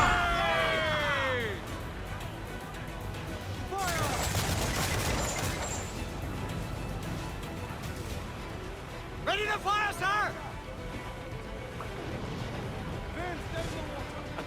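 Ship cannon and gunfire roar in a naval battle in Assassin's Creed IV: Black Flag, with repeated heavy booms and crackling volleys under loud shouted commands from the crew.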